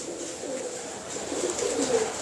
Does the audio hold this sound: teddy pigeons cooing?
yes